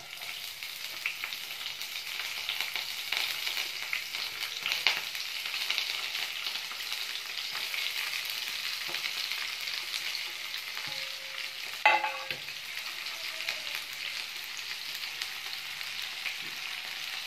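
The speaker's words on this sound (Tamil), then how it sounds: "ஸோ இப்போ நல்லா ஃப்ரை ஆரம்பிக்குது." Beans and cabbage, along with onion and capsicum, fry in a hot pan with a steady, even sizzle that carries on throughout, broken by one brief sharp clatter near the end.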